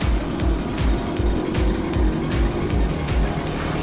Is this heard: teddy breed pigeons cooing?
no